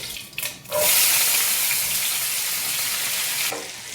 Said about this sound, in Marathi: अर्धा चमचा मोहरी टाकायची